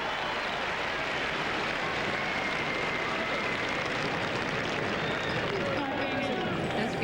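A large tennis crowd at the 1999 Evert Cup final cheers and applauds loudly and continuously, a dense roar of clapping and voices from a big audience.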